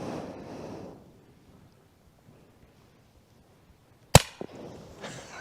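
Airsoft gun fired at a target outdoors: after a quiet stretch with some wind noise, a single sharp, close crack rings out, followed by a smaller knock.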